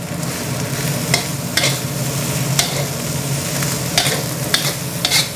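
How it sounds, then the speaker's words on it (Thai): Chinese kale stir-fried in a pan for Thai fried rice with dark soy sauce, a steady loud sizzle broken by repeated scraping clacks of a spatula every second or so, with no talking. "เราจะผัดให้ผักคะน้ามันสลด"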